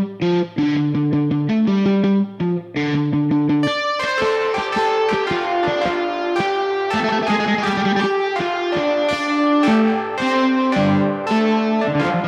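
Synth patch imitating a guitar plays a distorted melody with key-switched articulations, first in short choppy phrases, then a denser sustained line over a beat for a trap-style track.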